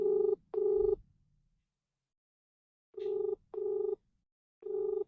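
An outgoing phone call to a friend rings in the handset: two paired ring bursts, a silent gap, then three more, clear and moderately quiet with nothing else audible.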